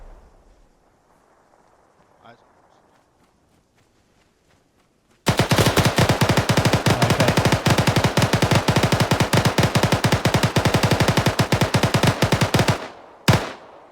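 A long, loud burst of rapid automatic gunfire in the military video game Arma 3 follows several seconds of near silence, then cuts off, and a short second burst comes just after.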